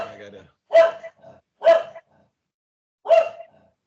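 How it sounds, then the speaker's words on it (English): A dog barks indoors in three sharp, separate bursts spaced about a second apart, loud and close, with a brief whine or voice at the start. "My dog is going nuts here."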